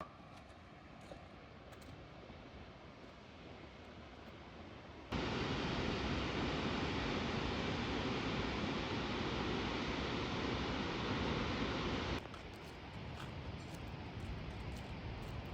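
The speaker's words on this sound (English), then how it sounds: "And here's the lookout to the falls." A 270-metre waterfall in the Far North Queensland rainforest roars from a lookout as a constant hiss-like rush that grows noticeably louder through the middle stretch before easing back slightly.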